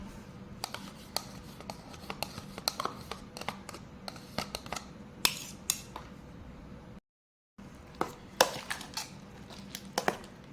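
A fruit mix with ice cubes being stirred, irregular clinking and scraping knocks, some sharp and bright, scattered through a steady quiet bed, with a brief dropout of total silence near the end.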